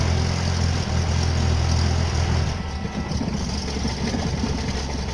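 An FSO 125p car idles cold close by, a steady low rumbling engine note with slight unevenness, continuous and fairly loud with no talk.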